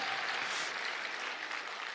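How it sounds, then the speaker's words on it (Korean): Audience at a company rally clapping together, a dense burst of applause held steadily for a couple of seconds at moderate distance. "우리 스스로를 위해서 박수 한번 쳐요"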